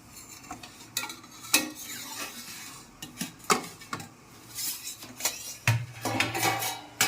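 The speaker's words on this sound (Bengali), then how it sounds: "ঝাঁকনাটা খুলে দেখে নিই" A lid is lifted off a pot of steamed cauliflower puli pitha, with metal clinks, scrapes and clatters at irregular intervals and a soft hiss of steam beneath. The sounds are close and moderately quiet, with no talk.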